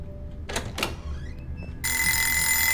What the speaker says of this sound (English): I feel like the alarm keeping going off is like a hint.